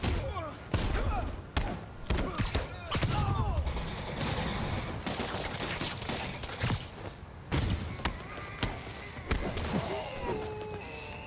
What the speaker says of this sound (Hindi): कौन मुझे गोलियां मार रहा था